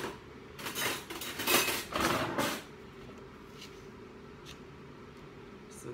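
A teaspoon scoops instant coffee granules, giving a few close, quiet scraping and clinking strokes in a short burst before falling silent.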